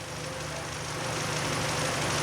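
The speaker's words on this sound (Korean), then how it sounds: "엔진 아이들링" A Kia K5 engine, recently repaired after a timing fault and stalling, idles with a low, steady hum and faint mechanical whir, quiet and continuous with no talking.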